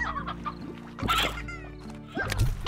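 A chicken in the video game Slime Rancher clucks in short bursts, close and fairly loud, with brief pauses between squawks.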